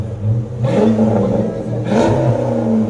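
A 2005 Dodge Magnum RT with a 5.7L Hemi V8 and Flowmaster Super 10 mufflers revving twice, each blip rising to a deep, loud exhaust roar before settling back to a rumbling idle, close to the microphone.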